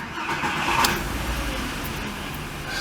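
A 2001 Volkswagen Jetta VR5 engine cranks and catches, with a brief starter whine and a rise in revs that settles into a steady, loud idle close by.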